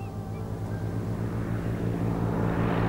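A single-engined Cessna light aircraft drones steadily in flight, a continuous propeller hum that slowly grows louder as it nears, with no voices.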